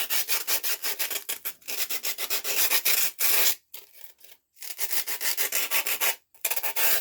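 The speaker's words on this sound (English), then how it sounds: "I don't think you would want to use a fine sandpaper on this because it would take a long time." Coarse sandpaper rubs back and forth over a Halloween candy corn wreath attachment in quick, loud, rhythmic strokes close by, with a few brief pauses between runs.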